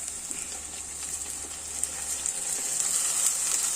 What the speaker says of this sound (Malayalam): ഒരു ഗോൾഡൻ കളറായപ്പോൾ നമ്മൾ അരച്ച് വെച്ചില്ലേ പേസ്റ്റ് പോലെ അരപ്പ് അതൊഴിക്കുക